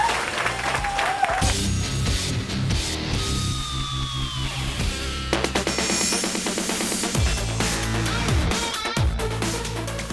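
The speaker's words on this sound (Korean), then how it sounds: "박수 한번 하시죠." Scattered audience clapping at a Korean long-drive golf league event, mixed with music and other event sounds, moderately loud and uneven across the stretch.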